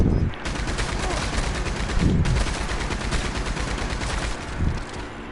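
Rapid, loud automatic gunfire rattles continuously in a video game, dense bursts of shots running almost unbroken for several seconds with a brief pause near the start.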